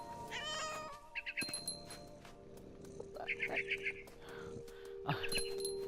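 Cat meowing in the video game What Remains of Edith Finch, several short, close meows and chirpy cries in quick succession over quiet game ambience, with a narrator speaking.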